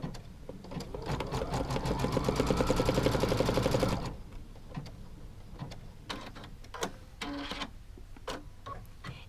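Sewing machine stitching a seam joining two fabrics for a quilt block, a rapid rattling run of about four seconds, then stops, followed by scattered clicks and handling taps.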